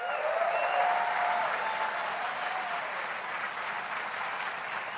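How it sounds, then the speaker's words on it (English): Steady audience applause fills a large keynote hall at Apple's WWDC 2017, a dense, even wash of many hands clapping at a constant level for the whole stretch, with no speech over it. "Let's give them a big round of applause"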